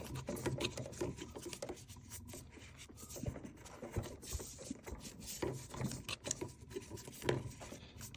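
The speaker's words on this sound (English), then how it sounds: "I'm going to unscrew this, not knowing exactly what it is" Small parts of a Caire Companion 5 oxygen concentrator being unscrewed by hand, giving close, quiet rubbing, scraping and faint clicks that continue irregularly throughout.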